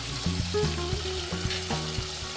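Garlic paste sizzling in hot oil in a pan while cooking chui jhal chicken, a crackling, bubbling fry heard close up with a few stirring clatters over its short length.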